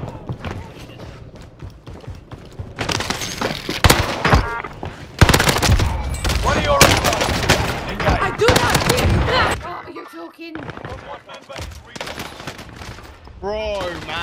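Bursts of rapid automatic gunfire crack through a Warzone video game match, heavy volleys with short pauses and some quieter stretches, mixed with in-game sounds.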